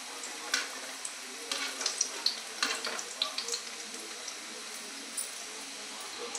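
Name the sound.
egg fritters frying in oil in a kadai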